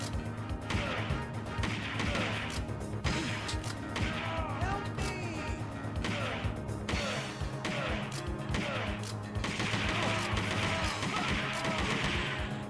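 Rapid arcade gunfire from Virtual Cop 2, loud and constant with sharp shots and crashes over a driving game soundtrack, a voice talking now and then beneath the action.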